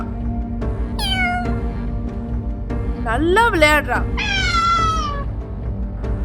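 A pet cat meows several times in a home, rising and falling cries, one short call followed by a longer wavering pair, with a person speaking softly over them.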